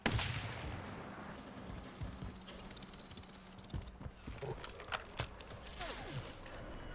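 An enemy fires at the player in a shooter video game: scattered sharp gunshot cracks over a busy background of hoofbeat-like clatter and distant battle noise, with no talking.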